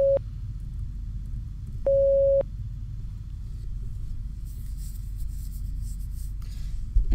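Two electronic beeps of a Morse code signal sound in the video game First Winter, one very short and one longer, each a clean steady tone over a low background rumble.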